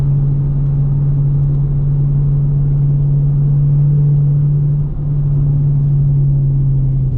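Dodge Challenger R/T with a six-speed manual gearbox, its engine holding a steady, close low rumble with a brief dip in level near the end as the driver downshifts.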